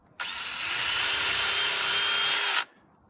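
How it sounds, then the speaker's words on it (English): A power drill boring through a piece of wood while cladding beneath decking, one continuous loud, close whir lasting a couple of seconds with a sharp start and stop. "Drill through here."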